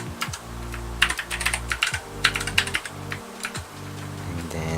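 Someone types on a computer keyboard in quick bursts of close, crisp key clicks with short pauses between runs, over a low steady background hum.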